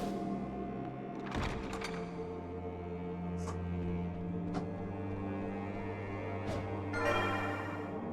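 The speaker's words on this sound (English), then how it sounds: "The curtain time bell." The curtain time bell in Castlevania: Lament of Innocence tolls several times over a low sustained drone, each strike ringing out and fading, quiet and reverberant.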